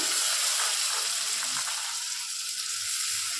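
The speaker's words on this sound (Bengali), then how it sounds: "এই মশলাটা ভালো করে ভেজে নেব" Chopped onion with chili, ginger and onion pastes frying in a pan, giving a continuous bright hiss of sizzling oil at even loudness with no talking.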